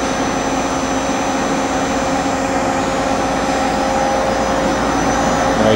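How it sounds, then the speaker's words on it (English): 1986 Okuma & Howa Millac 4VA three-axis CNC vertical machining center with its spindle running at a higher speed, giving a steady whining hum with a faint tonal whine that stays constant and close, without any talk. "Faster spindle speed."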